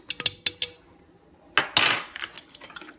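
A spoon stirs a cockatiel's breakfast food and pellets in a dish, giving sharp metallic clinks and a burst of gritty rattling scrapes, close and clear with no voices.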